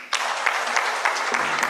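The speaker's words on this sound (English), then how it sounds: "Can we clap for that?" Applause from the audience at an economic forum, a short burst of brisk clapping from a crowd that starts abruptly and continues evenly for under two seconds.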